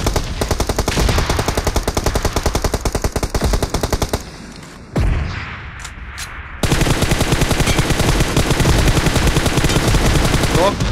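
Rapid automatic gunfire from PUBG Mobile, loud and close, pausing briefly mid-clip before a second dense burst resumes; a voice is faintly present beneath the shots.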